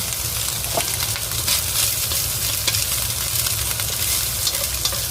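Shiitake mushrooms and shredded meat stir-fry in hot oil, giving a steady, loud, close sizzle broken by occasional scraping stirs of the spatula, with no voices throughout.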